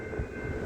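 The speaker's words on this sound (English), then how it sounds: "Steel train ahoy." A steel train passes through Mordialloc station, a 120-year-old stop where it meets a metro train, rumbling low and steadily close by with faint wheel clatter, no voices over it.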